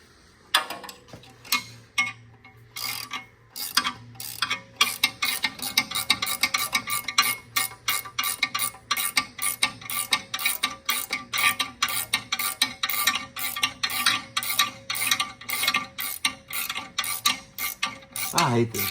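A hand ratchet wrench tightens torque converter bolts on a transmission in a shop, giving loud rapid clicking bursts in repeated strokes after a quieter start, close to the microphone with no talking.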